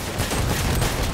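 Gunfire in a vehicle combat video game with rocket launchers goes off as a quick, dense burst of shots, loud and close.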